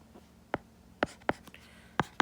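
A chemistry bond-polarity diagram being drawn and written out: sharp, separate pen or marker strokes tap and scratch irregularly, close and fairly loud against a quiet room, with no talking.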